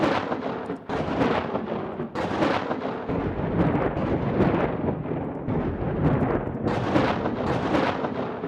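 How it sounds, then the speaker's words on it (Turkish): Lightning bolts strike in Worldbox God Simulator, a series of loud crackling booms with sharp onsets separated by brief gaps, rumbling on between hits. "Bunların kafasına yıldırım çarptıracağım"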